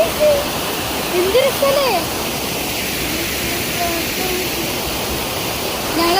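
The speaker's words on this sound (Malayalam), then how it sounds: "കണ്ടോ, നല്ല വെള്ളച്ചാട്ടം, പൊളി വെള്ളച്ചാട്ടം കാണാനൊക്കെ." A waterfall of clear water near a resort pours as a constant broadband rush, with a person briefly speaking over it near the start.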